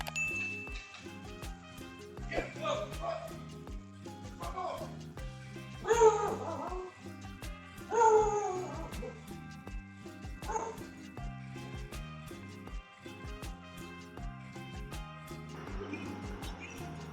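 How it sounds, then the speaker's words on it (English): A dog barks and yips repeatedly in bursts outside a house as car thieves are interrupted, with whimpering between the barks; the calls are close and loud, rising to sharper peaks partway through. "Suddenly, they hear the sound of the owner's dog"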